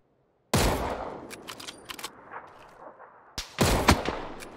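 Gunfire in the PUBG battle royale game: after half a second of silence, a loud sharp burst of shots, then a string of separate cracks and echoing reports, and a second heavy burst near the end, with no talking.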